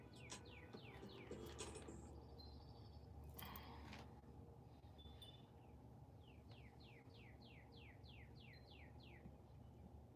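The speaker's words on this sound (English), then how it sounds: "The birds is having a field day today, baby." Birds singing outdoors, with quick repeated chirps in rapid runs, one burst early and a longer series later, faint and somewhat distant over a low steady background hum.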